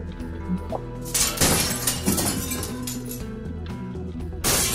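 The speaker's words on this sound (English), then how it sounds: "It sounds like glass breaking again!" Glass shatters in Minecraft, a burst of sharp clinks and smashing crashes followed by scattered tinkling shards, with another crash at the end over a faint background tone.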